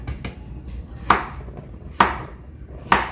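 A knife chops garlic and onion on a cutting board in a home kitchen, with three sharp, evenly spaced thuds against a faint background and no talking.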